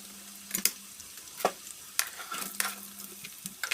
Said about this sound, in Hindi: आलू डाल दिए मैंने तेल में, थोड़ा फ्राई हो जाएंगे